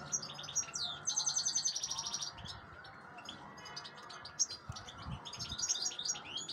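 A caged goldfinch and its chicks chirping, with rapid bright trills and repeated high tweets coming in bursts throughout, fairly close but soft, with no talking.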